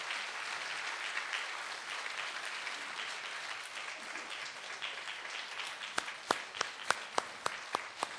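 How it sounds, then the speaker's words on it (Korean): A church congregation applauds during a flower presentation, a broad sustained wash of clapping that thins out, leaving a few sharp individual claps spaced in a slowing rhythm at the end. "이 시간 꽃다발을 전달할 때 힘찬 박수 해주시기 바랍니다"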